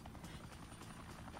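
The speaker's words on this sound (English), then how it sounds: "Oh, fuck, that's a helicopter." Helicopter in the video game Dead Rising, a faint steady rotor thrum with rapid rhythmic chopping pulses, heard alone at low level.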